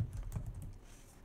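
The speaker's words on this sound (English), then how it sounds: "we can start typing" Typing on a computer keyboard at a desk while working in design software, a quick cluster of soft close key clicks that fades into quiet.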